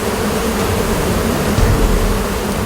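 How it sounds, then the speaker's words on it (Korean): Wild honeybees guarding a hive on a cliff, a dense, loud, continuous buzzing hum of a large swarm with no voices. "벌집을 지키고 있는 꿀벌들을 침착하게 연기로 쫓아내야 한다"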